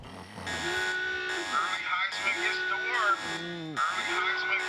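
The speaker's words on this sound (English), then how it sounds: "Hey, Google, turn on the rookie alarm." A smart speaker in a Nissan pregame commercial sounds a bright, tonal alarm jingle that repeats in steady rising-and-falling phrases at close range, loud and continuous throughout.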